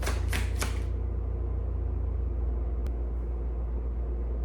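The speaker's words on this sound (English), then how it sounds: "I hear a truck. Someone's here." A truck arriving outside gives a steady low engine rumble that continues throughout, with a brief rattling clatter at the start and a faint click partway through.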